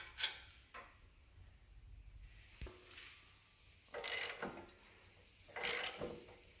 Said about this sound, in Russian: Обычная трещотка, без всяких удлинителей.